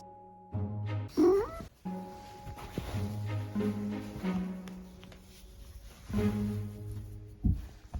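A domestic cat meows several times in close, clear, drawn-out calls with rising and falling pitch, separated by short pauses, with no talking.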